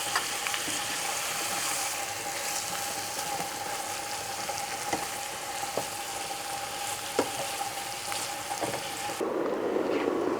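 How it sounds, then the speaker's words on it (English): Chicken sautés in a pan with saffron for Persian chicken and rice (Morgh-laye Polo), giving a steady, close sizzle with a few sharp clicks and pops throughout. No one speaks. "just to saute a little bit, that's enough"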